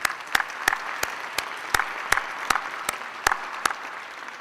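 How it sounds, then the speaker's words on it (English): Applause for perfect attendance at a mayor's program meeting, heard as sharp, evenly spaced claps in a steady rhythm over a softer background of clapping. "So give yourselves a round of applause for that"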